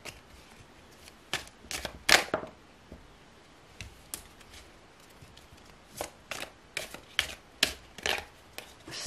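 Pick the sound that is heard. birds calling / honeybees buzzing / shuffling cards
shuffling cards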